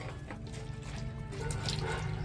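Clean water is poured into a cooking pot for washing vegetables for pav bhaji, a brief, soft liquid splash and trickle lasting a couple of seconds at low volume.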